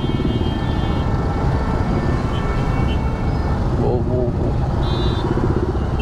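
A Royal Enfield Himalayan 411 rides toward Nandi Hills, its engine drone and rushing wind forming a loud, steady roar, with a voice at times.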